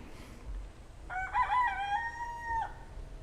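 A nearby rooster lets out one loud, drawn-out crow that rises and holds, then drops sharply at the end. A quiet indoor room with a faint low rumble sits beneath it.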